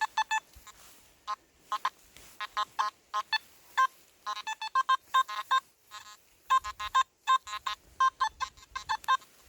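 Beeping tones from a Simplex SP24 metal detector passing over iron junk, a fast, erratic run of short, clipped beeps that jump around irregularly with brief gaps, fairly loud and with no talking.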